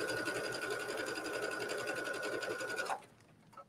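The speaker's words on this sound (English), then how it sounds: "I'm just guiding the fabric underneath, making sure my stitch line is right next to my elastic. And I'll stitch right up to that side seam." A home sewing machine runs steadily, stitching fabric along elastic toward a side seam while a T-shirt is refashioned into a bathing suit cover. A close, continuous whirring hum stops abruptly near the end, leaving a brief quiet.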